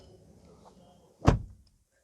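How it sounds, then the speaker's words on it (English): Car door of a 2018 Maruti Suzuki Dzire VXI AMT slamming shut once, a single solid thunk with a short rattle, close and loud after a quiet moment. "Let's close the door."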